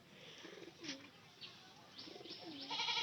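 A plump domestic pigeon coos softly in short, separate bursts, with faint chirps and light rustling close by over a quiet background.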